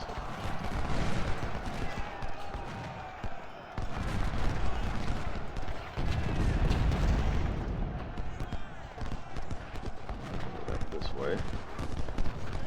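Massed musket volleys crackle and rumble through a Civil War battle, First Winchester, in the strategy game Ultimate General Civil War, with dense, sustained popping and low booms over a continuous battlefield roar.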